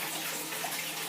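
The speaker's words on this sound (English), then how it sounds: "I'm also siphoning water from the water column up there" Aquarium water siphoned from a freshwater tank through extension tubes makes a soft, steady rushing flow, faint and continuous with no voices over it.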